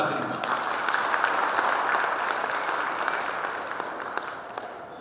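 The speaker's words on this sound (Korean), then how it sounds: "우리 회원님들 박수 한번 부탁드립니다" Audience applause at an association president's inauguration ceremony, a dense sustained clapping from a roomful of people that slowly eases off, with speech faintly over it.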